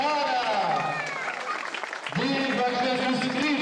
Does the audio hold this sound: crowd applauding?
yes